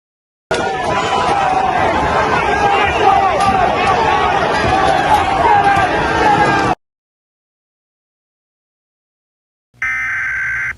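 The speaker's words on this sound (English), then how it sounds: "Listen to the roars of the crowds and different POVs." Crowds roar during the attack on the U.S. Capitol, a loud, dense wash of shouting, whooping and babble sustained for several seconds before cutting abruptly to silence, followed by a short burst of tone-like sound.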